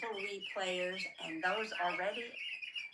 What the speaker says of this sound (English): all that other noise is my bird clock telling me it's time to start the live